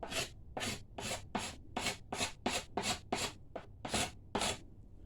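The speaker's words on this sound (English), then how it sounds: "I change directions on my scraping. And that's the good thing about the little burr scraper." A small burr scraper rasps over a hickory self bow in about twelve close, crisp strokes at an even pace, each a short hissing scrape with brief gaps between, and no talk.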